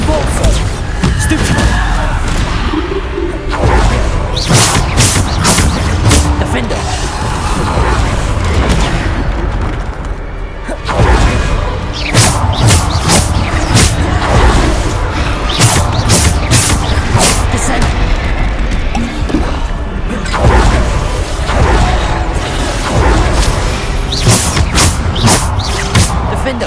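Bombarda explosion spells in the Hogwarts Legacy video game, a sustained loud barrage of repeated booming blasts and crashing impacts in rapid succession, with brief shouted spell incantations mixed in amid the combat din.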